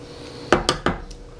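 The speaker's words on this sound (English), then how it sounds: "We're gonna stir it up." A metal canteen cup of beef stew being stirred gives three quick, sharp clinks of a utensil against the cup, close and distinct, followed by a fainter fourth tap.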